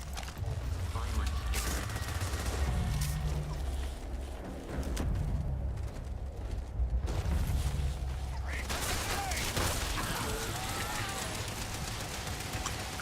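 Rapid bursts of weapon fire crackle in the Starfield video game, with repeated volleys and shots under a steady din of combat noise, moderately loud throughout.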